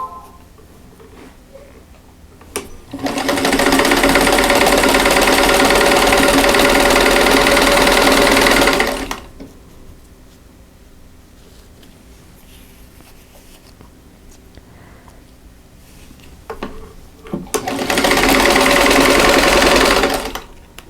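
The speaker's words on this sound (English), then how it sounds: "I'm going to sew from the center top to the bottom right hand corner, right on that drawn line." A sewing machine stitches fabric for a Christmas star placemat in two loud, close, steady runs of rapid mechanical whirring, separated by a quiet pause.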